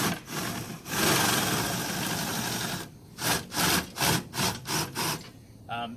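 A power drill drives the stabilizer jacks on a camper parked in a driveway, set to low torque: a long steady whirring run, then a series of short rhythmic bursts as the jack is tightened.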